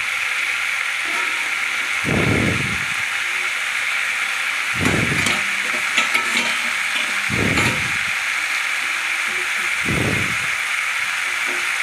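Vegetables and a pinch of cumin powder are stirred in a pan. A steady sizzling hiss runs underneath four evenly spaced, deeper scraping strokes.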